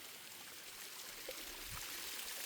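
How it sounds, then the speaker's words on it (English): A small waterfall on a hiking trail near Jaco, Costa Rica gives a soft, steady hiss of falling water, faint and continuous with a brief low thump. "There's a cool little waterfall."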